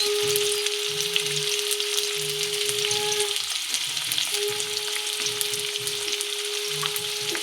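Chili chicken masala with tomato sauce fries steadily in a pan, a close, continuous crackling sizzle with a faint whine running through it and low stirring knocks beneath.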